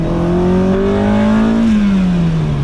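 Acura Integra engine revving hard with VTEC engaging, a loud, close, steady climbing drone whose pitch rises and then drops back as the revs fall, heard alone without talk.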